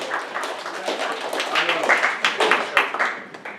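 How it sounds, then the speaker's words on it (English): Comedy club audience applauding as performers leave the stage, a crowded, rippling clatter of hands that swells and pulses, with a voice talking over it. "round of applause for all of them as they hug off the stage"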